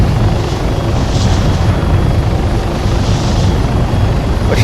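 A steady, loud helicopter rotor drone from the game Arma 3 fills the whole stretch, a continuous throbbing roar with no voices.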